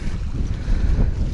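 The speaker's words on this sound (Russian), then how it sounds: "ветрище пока не дает даже заброситься" Strong gusting wind buffets the microphone on a high riverbank, a steady low rumbling roar that swells and dips continuously with no voices.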